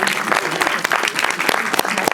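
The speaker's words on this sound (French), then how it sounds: "Encore un tonnerre d'applaudissements pour tous nos cinéastes" Loud, dense applause from the audience at a film premiere in a Luxembourg cinema, honouring the filmmakers and actors, sustained without a break.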